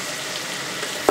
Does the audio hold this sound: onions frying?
yes